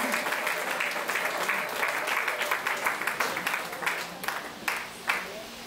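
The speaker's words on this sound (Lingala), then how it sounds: "Si on peut les applaudir, s'il vous plaît, parce que c'est une grande bénédiction." Applause from mourners at a family funeral wake in Kinshasa, a steady crowd clapping with a few sharper claps near the end, fairly close and moderately loud.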